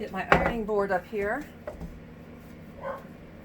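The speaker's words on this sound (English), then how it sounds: "Excuse my little dog, she's monitoring the neighborhood." A small pet dog barks briefly, close by, over someone talking as she irons silk indoors.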